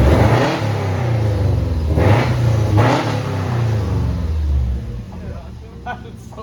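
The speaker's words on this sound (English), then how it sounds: "Now, if you sit up front, you'll hear the intake." Intake roar from a Subaru WRX STI with an air oil separator and catted downpipe, heard from the front seat as a deep, loud rumble swelling with each rev, then fading as the engine settles toward idle.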